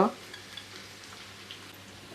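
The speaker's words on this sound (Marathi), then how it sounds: "आता बघा फोडणी थोडीशी परतली ना का काय करूया याच्यामध्ये हालत घालूया हिंग" A tempering of dried red chillies and asafoetida sizzles in hot oil for dal, a faint, steady crackle that stays soft and unbroken throughout.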